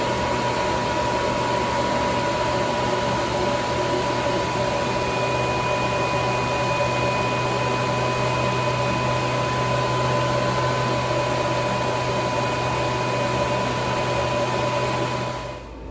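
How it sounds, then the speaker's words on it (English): A diesel heater inside a bus runs at its lowest setting, giving a steady, loud broadband hum with a constant low drone and a faint high whine, unchanging throughout and with no talking. "I'm sure you can hear the heater running in the background."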